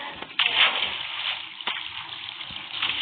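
Water rushes and splashes down a pool slide in Minecraft, a continuous loud wash of sloshing water with a couple of sharper splashes.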